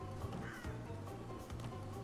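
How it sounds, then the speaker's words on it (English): Birds caw in the video game Crash Bandicoot N. Sane Trilogy, a few harsh crow-like calls repeating over a steady game background, fairly quiet and without speech. "You gotta watch out for the birds."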